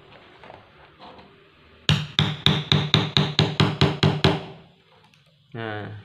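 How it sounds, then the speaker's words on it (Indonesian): Hammer blows drive a part into a Tamiya speed checker during a repair: about ten sharp, evenly spaced knocks, loud and close, come after quiet handling noise and end in a short rattling scrape. "main kasar, ini kita palu sedikit."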